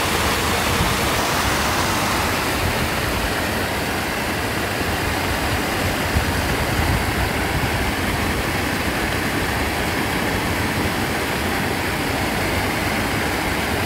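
Steady broadband rush of a river flowing past the Pokrovsky bridge over the Iset in Yekaterinburg at 6 a.m., a continuous even wash of water with faint low traffic-like rumble, no voices.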